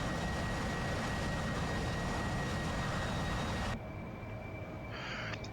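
Continuous roar of an AV-8B Harrier jet engine in DCS, loud and steady, then abruptly dropping to a quieter hum near the end.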